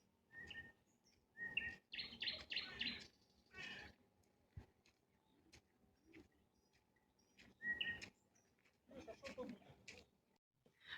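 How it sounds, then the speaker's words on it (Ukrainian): A nightingale sings in clear bursts of chirps and trills, fairly distant, with quiet gaps between phrases in an otherwise calm outdoor setting. "Соловейко виспівує."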